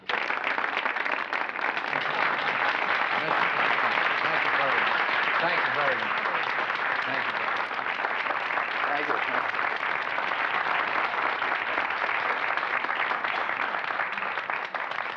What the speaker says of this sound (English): A round of applause for the lieutenant who tried to, uh, to uh, outwit the master.